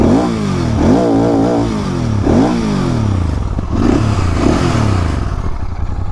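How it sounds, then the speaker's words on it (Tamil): A Royal Enfield GT650 motorcycle engine revved repeatedly, loud and close, with deep exhaust rising and falling in several strong bursts over a rumbling idle. "ஸ்டார்ட் பண்ணுவோமா? என்னடா எக்ஸாஸ்ட் சவுண்ட் நார்மலாக இருக்குன்னு நினைக்காதீங்க."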